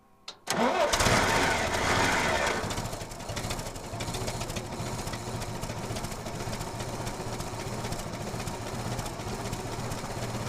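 An old carbureted engine cranks with a sharp burst and catches, roaring up briefly before dropping into a rough, steady running rumble with a pulsing, slightly sputtering idle.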